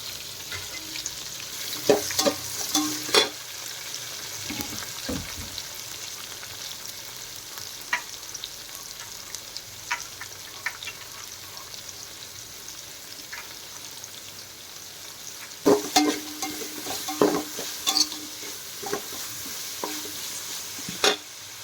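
Onion and curry leaves sautéing in a pan over already-fried garlic for a fish curry, a soft continuous sizzle with bursts of clattering spatula scrapes near the start and again toward the end.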